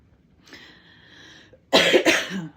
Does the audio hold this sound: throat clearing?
yes